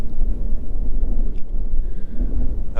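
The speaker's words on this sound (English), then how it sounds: "It's quite windy" Wind gusting across the Cairngorms on a sunny winter morning in the snow, a loud buffeting low roar on the microphone with a couple of faint brief ticks.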